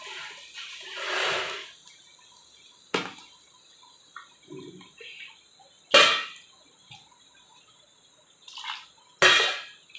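A small amount of rinse water goes into a pan while thengai therattipal cooks, heard as several brief, separate splashes and drips against quiet pauses.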